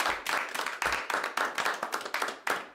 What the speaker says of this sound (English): Round of applause, everybody.